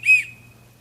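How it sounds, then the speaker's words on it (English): A single sharp, high whistle blast at an archery range, loud and close, fading quickly with a faint low hum underneath. "After you hear the 2 whistle blasts"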